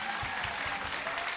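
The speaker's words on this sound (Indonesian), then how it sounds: "Tepuk tangan buat Hilal." Audience applause at a televised Indonesian preaching competition: a steady, even patter of many hands, fairly faint and distant, lasting about a second and a half with no talk over it.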